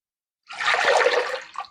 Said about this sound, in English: In the bowl of my stand mixer, I'm going to be adding in 2¼ cups of warm water.